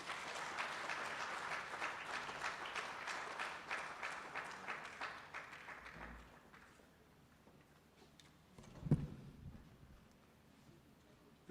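A seated audience at a judges' seminar gives a round of applause that fades out over several seconds, followed by quiet room tone and a brief bump or shuffle.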